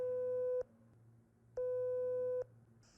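A telephone busy signal gives two steady beeps, each lasting nearly a second, with a pause between them. The tone is clean and moderately quiet over a faint hum.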